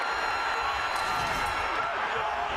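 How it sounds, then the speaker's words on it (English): A football stadium crowd roars after an interception at an OSU at OU game, a broad, sustained wash of noise with faint whoops and cheers rising out of the distant din. "and this crowd roaring now"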